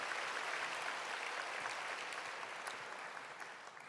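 Applause from a church congregation during a Sunday worship service, a dense steady clapping that fills the room for the whole stretch, loud and continuous and easing slightly toward the end.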